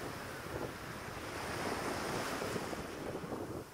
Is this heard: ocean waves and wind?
yes